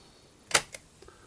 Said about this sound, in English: if I mechanically trigger my shutter